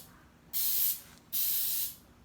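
Spray gun or aerosol painting a custom swing-out spare tire carrier for an SUV, with taped-off parts; two loud, steady hissing bursts of about three-quarters of a second each, separated by a brief pause, close to the mic.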